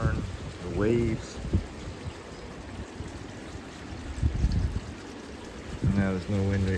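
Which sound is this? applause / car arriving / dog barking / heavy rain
heavy rain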